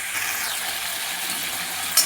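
Cashews roasting in a hot pan make a continuous soft sizzle and rustle of stirring, ending with one short scrape.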